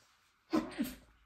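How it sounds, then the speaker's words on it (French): A single sneeze, close and sudden, breaking out of near silence in a quick two-part burst. "excusez-moi, je vais éternuer"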